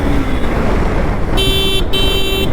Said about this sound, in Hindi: हॉर्न एक मजबूरी है, मारना ही पड़ेगा